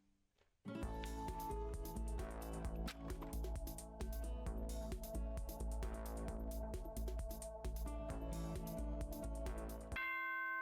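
A school announcement chime from the video game Danganronpa: Trigger Happy Havoc plays as a loud, bright bell-like melody that fills nearly ten seconds, followed by a brief sustained tone at the end.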